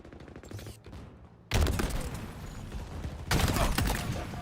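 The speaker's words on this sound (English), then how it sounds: "Alright, everybody, watch this shot. I'm gonna kill the gunner." Video game gunfire aimed at an enemy gunner, heard as loud, close bursts of rapid shots in two sharp onsets with a quieter rattle of fire before them.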